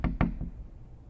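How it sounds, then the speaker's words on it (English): Two sharp knocks come close together on a door or wall inside a house at night, then a fainter third knock. The rest is quiet. "Someone keeps knocking and stuff."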